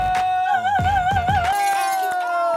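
A wine glass bursts apart with a sudden shattering crash after a sustained, wavering sung note.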